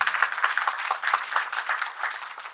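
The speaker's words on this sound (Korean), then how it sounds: "네, 다시 한번 큰 박수 부탁드리겠습니다." A crowd applauding steadily, dense overlapping claps at moderate volume throughout, with no voices over it.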